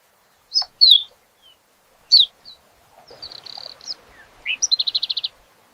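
Cartoon sound effect of a small, happy bird chirping: several short bright tweets, then a trill and a rapid run of evenly spaced high chirps, clear and close with no speech.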